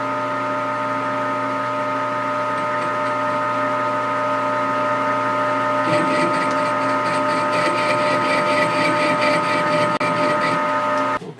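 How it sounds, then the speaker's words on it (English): A Grizzly G4003G metal lathe runs with a steady, loud motor hum while it bores a welded seam out of a steel tube, and about halfway through a harsher, rattling cutting chatter joins the drone. "I'm going to go ahead and bore that welded seam out of there so that tube fits down in there better"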